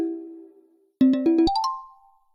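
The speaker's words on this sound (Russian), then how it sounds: "а вот и Евгений нам звонит" An incoming call ringtone plays a short electronic chime of a few quick repeated tones then a rising note, clear and alone during a live online coaching session.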